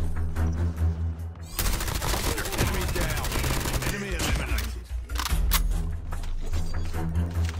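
Rapid automatic gunfire in Call of Duty Mobile while an enemy is being shot: a dense, loud, sustained burst over in-game music.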